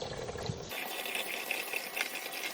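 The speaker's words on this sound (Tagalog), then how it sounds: "Pagkatapos, ilagyan ito ng tamang tubig." Water pours steadily onto washed rice in a pot, a continuous splashing gush that fills the clip at close range.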